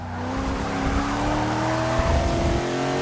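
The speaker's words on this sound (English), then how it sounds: "That sound you hear when you brush over the rumble" A race car in Forza 7 drones steadily at close range as its tires brush over a rumble strip, with a low juddering buzz and a faint squeal under the sustained engine tone.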